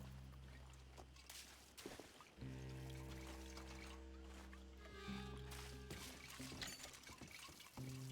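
Liquid is poured and splashed out to douse something in a video game. The sloshing pour runs for several seconds over a low steady hum, with a brief break partway through and faint voices at times.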